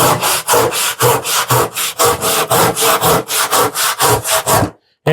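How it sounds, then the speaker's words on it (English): A handsaw rasps through wood in quick, regular back-and-forth strokes, loud and close, about a dozen and a half strokes before it stops abruptly. "So we'll just come over here to our handsaw."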